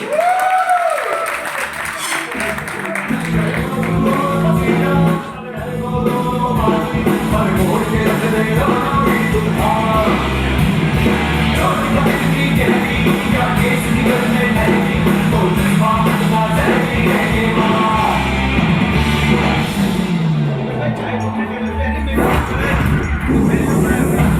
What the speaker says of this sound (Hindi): एक बार जोरदार तालियां मिस्टर विनोद डागर सर के लिए